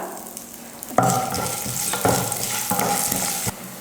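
Dal and spices fry in hot oil with a loud, close crackling sizzle, broken by several sharp scraping strokes of a spoon stirring the pan, with no voices.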